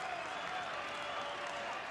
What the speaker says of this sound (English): Cheered on by this huge crowd in Paris today.